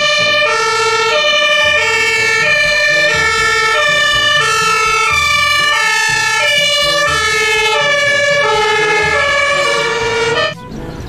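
A toy fire engine plays a loud, continuous electronic siren melody of repeating warbling tones, close and steady, cutting off abruptly near the end.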